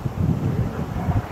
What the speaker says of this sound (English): the wind is picked up